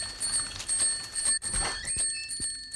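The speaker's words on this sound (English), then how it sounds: "I can bike away much faster and ring the bell to drown out bad thoughts." A cartoon bicycle bell rings in bright, metallic tones over a busy animated soundtrack, with sustained ringing that fades out at the end.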